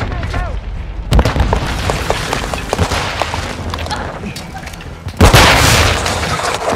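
A grenade going off in the Modern Warfare 2 multiplayer game: a sudden loud blast with a rough, noisy tail, set among scattered gunfire and other battle noise.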